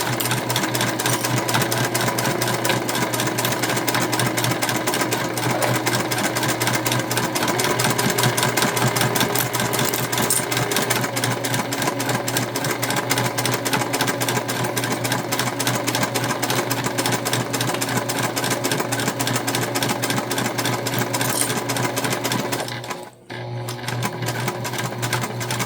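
A sewing machine runs continuously and loudly, stitching a quarter-inch seam with back stitching, with only a brief pause near the end before the motor resumes.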